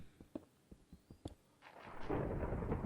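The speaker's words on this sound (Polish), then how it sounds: "Słyszysz, jak grzmi?" A few soft clicks and taps, then a low thunder rumble in the survival video game Manamana swells and rolls on steadily with rain, loud and sustained to the end.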